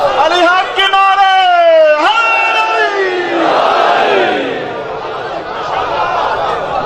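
A crowd at a religious majlis gathering chants Ali Haq slogans in loud, drawn-out unison cries, with a rising and falling group shout followed by a noisy swell of voices.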